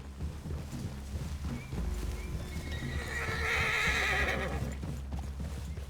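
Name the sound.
horses neighing in a video game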